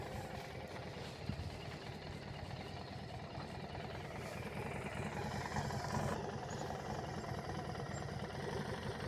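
A Harley-Davidson motorcycle engine holds a low, steady rumble at a distance, fairly quiet, with a slight swell in the second half.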